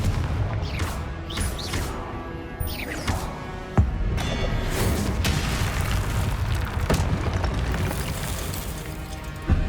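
Dense, loud game combat in Hogwarts Legacy, with repeated booming spell blasts and crashes over a continuous rumbling bed, one sharp impact standing out near the middle.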